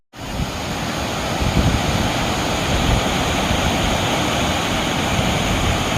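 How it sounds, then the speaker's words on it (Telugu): A waterfall roars in a loud, constant broadband rush near Macherla, steady from start to finish with slight gusts of wind noise and no voices. "ఇదంతా వాటర్ ఫాల్స్ అనమాట"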